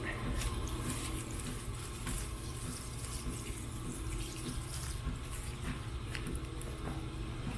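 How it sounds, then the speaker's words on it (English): Socks being washed out under a running tap at a Fish and Wildlife building along the Florida Trail, with a steady, loud rush of water splashing close by throughout. "So I'm going to wash my socks out."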